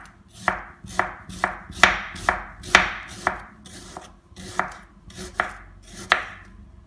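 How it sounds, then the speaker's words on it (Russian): A knife chops an onion into half rings on a cutting board, with about a dozen crisp, evenly spaced thuds in a steady rhythm, close and clear with no talking. "Нарезаем полукольцами лук."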